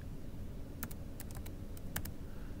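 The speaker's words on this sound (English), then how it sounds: "I'll just type the colors in first" Short bursts of keystrokes on a computer keyboard entering color names, a few quick clicks at a time over a steady background hiss, close and without voices.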